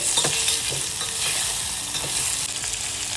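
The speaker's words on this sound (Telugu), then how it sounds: "ఉల్లిపాయ ముక్కలు క్యారెట్ ముక్కలు అలాగే మునక్కాయ ముక్కలు కూడా వేసుకొని ఒకసారి బాగా కలుపుకోవాలి" Onion, carrot and drumstick pieces are stirred in a hot pan for village-style sambar, a loud continuous sizzle with scraping spatula strokes close up and no talk.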